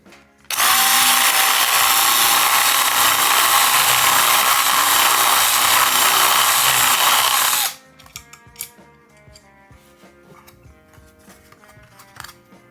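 Power drill widening a hole in plastic to half an inch on a proton pack arm, a loud, close burst of drilling lasting about seven seconds, then quiet clicks and handling noises.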